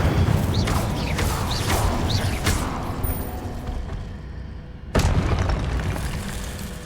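The Incendio fire spell in Hogwarts Legacy gameplay goes off as a booming, crackling burst amid several rapid impacts, then a second loud whoosh-boom erupts and tails off.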